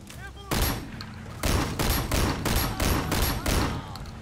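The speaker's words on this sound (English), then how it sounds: "I like the auto shotgun, it's fun." An auto shotgun fires in Sleeping Dogs, with about six loud, booming blasts spaced roughly half a second apart, each trailing into a brief rumble.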